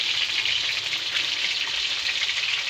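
Chicken pieces frying in hot oil for fried chicken, a steady bright crackling sizzle throughout with no voices.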